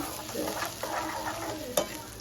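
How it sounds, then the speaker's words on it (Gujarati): Soft sizzle of mustard and cumin seeds crackling in hot oil, with quiet stirring scrapes and one sharper clack near the end. "જો ગાઈસ આપણે રાઈ જીરું વઘારમાં કરી નાખી દીધું"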